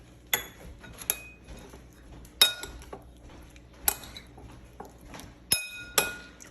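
Chicken pieces tossed with garlic and pepper in a bowl, heard as sparse, sharp clinks of a utensil against the bowl, about six distinct knocks spread unevenly over a quiet background.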